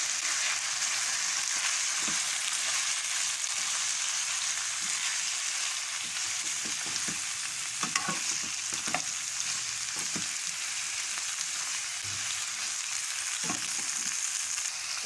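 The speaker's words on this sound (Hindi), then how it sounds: "और चिकन को थोड़ा सा भूनेंगे" Chicken and onions frying in oil for chicken karahi, a continuous bright sizzle that stays even throughout, with occasional faint clicks of a spoon against the pan.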